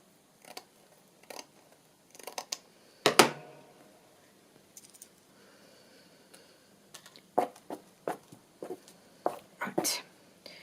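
Scissors cut decorative lace-like material for a journal cover, giving scattered close snips and crisp cuts, one sharper cluster early on and a busy run of clips near the end, with quiet gaps between.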